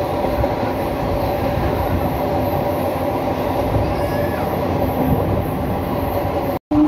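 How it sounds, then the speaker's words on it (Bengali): A local train on the Howrah to Tarapith route rumbles along at speed with a steady roar and rhythmic wheel clatter, heard from inside a carriage, briefly cutting out at the end. "ট্রেন স্পিড ধরে নিয়েছে নেক্সট স্টেশনের জন্য।"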